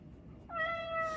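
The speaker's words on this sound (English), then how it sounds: "This is the robotic cat from Chonger." A robotic toy cat lets out a single synthetic meow, clear and close, rising in after a faint quiet background and holding steady for under a second.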